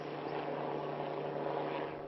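A police operations helicopter flying overhead, its rotor and engine drone steady and fairly distant, holding constant then easing slightly at the end.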